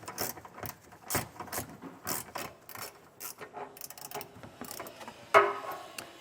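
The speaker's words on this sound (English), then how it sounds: "I'm using a 15mm socket to get these loosened up." A ratcheting socket wrench with a 15mm socket loosens trailer hitch bolts on a 2024 GMC, in bursts of quick clicking ratchet strokes with short pauses between them, then a louder metallic clank near the end.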